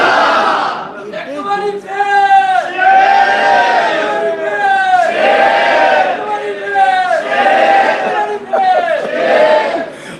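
A crowd at a Punjabi religious gathering chants slogans in loud, rhythmic unison, with repeated call-and-response bursts rising and falling steadily across the whole stretch.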